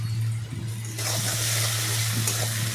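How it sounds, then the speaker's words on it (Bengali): Eggs fry in a pan for egg ghugni: a steady, close sizzle that jumps to a loud, bright hiss partway through and stays strong, over a low constant hum, with no voices. "এবার ডিম দিয়ে সেটাকে ভালো করে ভাজলাম"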